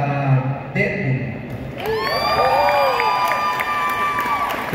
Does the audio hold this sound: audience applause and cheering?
yes